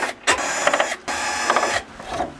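A power screwdriver whirs in short bursts as stand screws are backed out of the rear cover of an LG 50PK550 television, two longer buzzing runs separated by brief pauses, close and clear.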